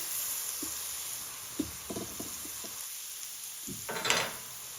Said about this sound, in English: I'll add 2 tablespoons of minced garlic.